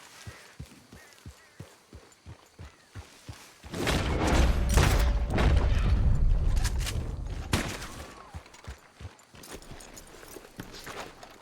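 Gunfire during a legendary animal hunt with Arthur Morgan in Red Dead Redemption 2: a dense, loud volley of shots fills the middle of the clip, with quieter rhythmic hoof-like thuds before and after.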